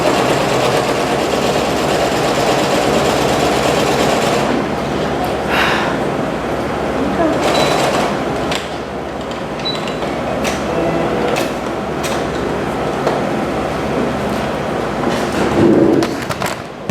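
A sewing machine stitches down the drawstring casing of a skirt, its motor whirring steadily and loudly for the whole stretch with slight shifts in speed and no talking.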